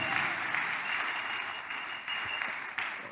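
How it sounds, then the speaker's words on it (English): A congregation at a church service claps steadily and energetically, a dense, continuous wash of applause with no pauses. "If you are clapping, clap better to the glory of God."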